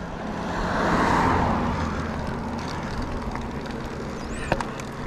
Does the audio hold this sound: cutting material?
no